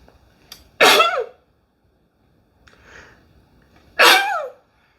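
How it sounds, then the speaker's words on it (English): Two sharp, loud sneezes about three seconds apart, each with a quick intake before it, and a soft breath or sniff in between. "I think I have to sneeze."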